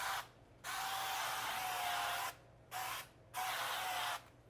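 Cooking spray hisses from an aerosol can in short close bursts, three or four sprays with brief pauses, over food being crisped while reheating leftovers in a home kitchen.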